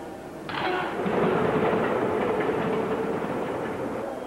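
A train rolls along a railway in Tokyo, rising in from a quieter start into a loud, steady rumble with faint rhythmic clatter, heard alone without talk.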